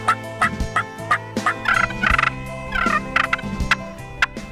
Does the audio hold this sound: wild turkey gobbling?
yes